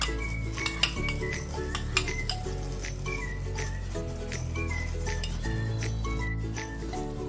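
A spoon clinks and scrapes in a kadai while paste for paneer butter masala cooks with butter and oil. Light metallic taps come in a loose rhythm over a low steady background, and no one speaks.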